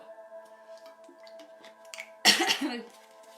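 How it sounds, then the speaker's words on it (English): A single harsh cough bursts out loudly and close, after a stretch of quiet tones and faint small clicks. "as I'm coughing"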